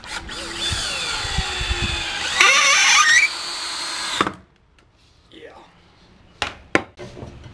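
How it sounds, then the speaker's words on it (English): A power drill drives screws into a wooden backyard compost tumbler, whining loudly in steady bursts for about four seconds before cutting off, followed by quieter handling clatter and a couple of sharp knocks. "And now you're just screwing it together."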